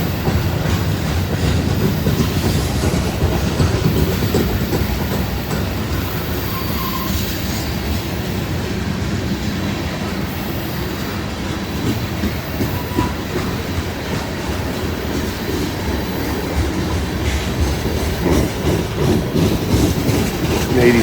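Ashland Railway short-line train in northern Ohio rolling past with a continuous loud rumble of 86-foot cars, wheels clacking and faint squeals throughout, with little or no talking.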